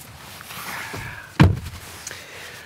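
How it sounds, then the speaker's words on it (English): Rear door of a Renault Clio E-Tech opened by its C-pillar handle: faint rustle and a soft click, then a single sharp, close latch thunk, followed by quiet shuffling. "let's pull back this disguised C-pillar door handle and take a seat in the rear."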